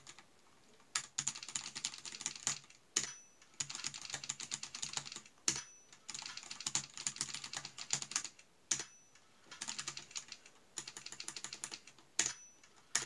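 Typewriter sound effects layered over computer keyboard typing: bursts of rapid, crisp clacking broken by short pauses and a sharper strike at intervals, close and fairly quiet, with no voices.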